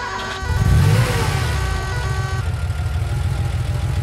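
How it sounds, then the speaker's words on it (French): A fire truck engine in a children's story starts with a sudden loud surge, then settles into a close, steady, throbbing idle that continues to the end. "Le camion démarre."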